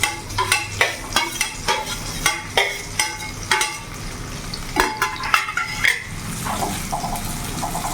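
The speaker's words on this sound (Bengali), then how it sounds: "ভালো করে নাড়াচাড়া করে নেব।" Carrots and beans with garam masala are stir-fried in a pan, with a spoon scraping and clanking against the metal in an uneven rhythm over a soft sizzle. The clanks come close and loud, then settle into quieter stirring.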